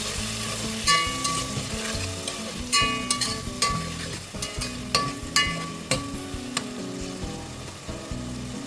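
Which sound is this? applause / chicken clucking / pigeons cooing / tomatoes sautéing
tomatoes sautéing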